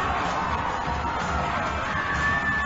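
A crowd in the David S. Palmer ice hockey arena cheers and roars steadily during a fight on the ice, a dense, sustained wash of voices with no distinct individual words.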